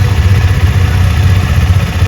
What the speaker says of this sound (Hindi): तो सबसे पहले मैं इंजन स्टार्ट करता हूँ बाइक का। स्टार्ट हो गया बाइक।